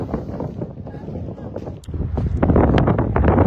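Strong wind blows outdoors, a continuous low, blustery rumble buffeting the microphone that grows louder partway through.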